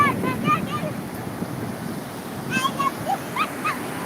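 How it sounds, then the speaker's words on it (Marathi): Big sea waves crash and wash on a Konkan beach, a steady broad surf roar with gusty wind, while bird-like chirps and a few distant voices rise over it. "केवढ्या लाटा येतात मोठ्या मोठ्या"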